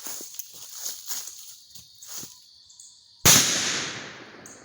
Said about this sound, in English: So I'm gonna go ahead and shoot it for you guys